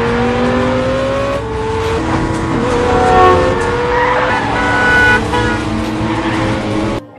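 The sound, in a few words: car fleeing in a chase, from a film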